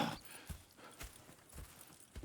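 Horse hooves clip-clopping in the Western video game Red Dead Redemption 2, with soft, faint, evenly spaced steps at a walking pace and no talk.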